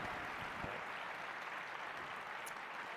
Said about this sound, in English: Let's give him a round of applause for stopping by and